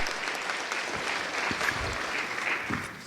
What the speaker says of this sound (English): Can we give him another applause?